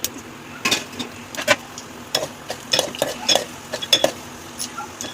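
Spices crackle and pop in two tablespoons of hot oil in a pan while being stirred for bendakaya pulusu, giving close, scattered sharp pops and utensil scrapes, with no talking.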